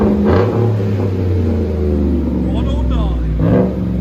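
2015 Chevy Silverado 5.3L V8 with a Dynomax Race Bullet exhaust revving up and settling back, a loud, deep rumbling roar that swells twice, with people talking over it.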